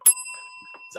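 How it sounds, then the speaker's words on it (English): A bicycle bell gives one bright, ringing ding near the start, and its tones hang on faintly through the rest of the second. There is no talk. "you just tap your bell"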